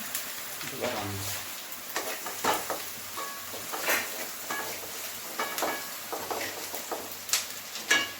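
Onions and vegetables frying in oil in a pan, a steady crackling sizzle broken by irregular scraping taps of stirring, close and fairly loud.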